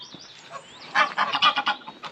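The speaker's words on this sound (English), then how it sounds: "I know it's some geese here now, look." Several geese honk in a quick series of loud, nasal calls close by, clustered into a rhythmic burst after a quieter start.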